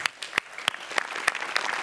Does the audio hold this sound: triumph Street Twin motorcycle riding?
no